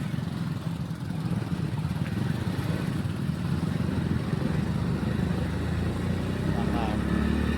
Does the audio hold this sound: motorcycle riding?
yes